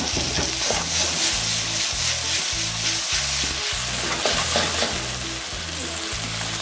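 A fish stew base of tomato and onion fries in a pan, loud steady sizzling with rhythmic stirring strokes throughout.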